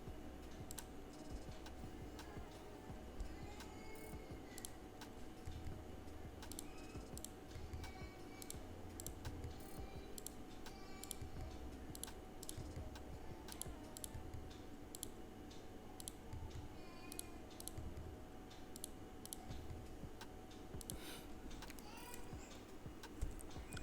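Computer keyboard typing while modelling a car in Blender, with rapid scattered key clicks and taps over a soft background hum, close and quiet, no talk.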